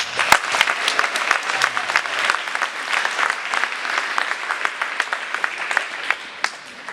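Audience applause at a 2023 high school award ceremony: a lively round of many hands clapping, sharp individual claps standing out, steady and fairly close for several seconds without talk.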